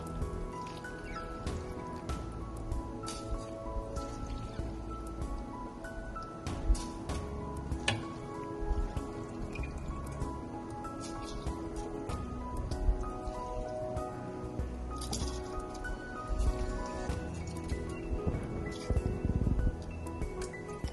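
Water boiling in a covered pot for bagara rice, a soft continuous bubbling with irregular pops and drips, faint and close, with no talking.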